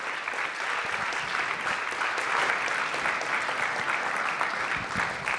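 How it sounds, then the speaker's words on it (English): Steady applause from a keynote audience at the A3E 2020 conference in Anaheim fills the whole stretch, dense clapping at a constant level without a break. "Let's give them another round of applause"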